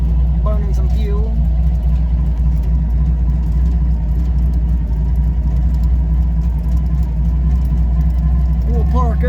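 A vehicle engine rumbles steadily and close while driving near old stone arch bridges, with brief speech at the start and end over the constant drone.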